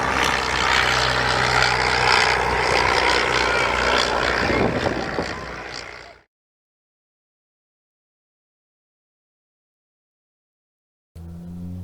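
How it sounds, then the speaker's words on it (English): A World War One SE-5A fighter biplane flies past at an air show, its propeller engine droning loudly and steadily for about six seconds before cutting to silence, then briefly returning at the end. "starting off with the SE-5A, which was the mainstay of World War One"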